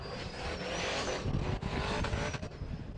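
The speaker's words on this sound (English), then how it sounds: "Listen to that singing turbo." An off-road race car at King of Hammers roars at full throttle, its turbo whining high above the engine as it bounces off the rev limiter, loud and continuous with brief dips.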